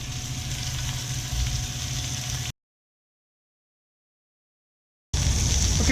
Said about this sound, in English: we're going to add these ribs and we're going to brown them all over